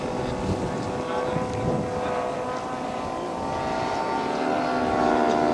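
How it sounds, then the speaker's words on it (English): Engines of a scale model B-25 bomber aircraft taxiing out for flight, a steady droning whine with a slowly rising pitch and loudness, under wind buffeting the microphone. "Greg Hahn is taxiing out for his first flight on Friday. B-25"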